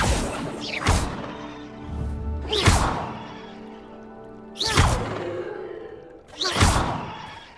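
Wizarding spells cast in a fantasy action game, four sharp whooshing cracks spaced a second or two apart, each with a trailing magical shimmer and resonant tail, fairly close and loud.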